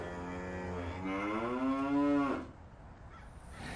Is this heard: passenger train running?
no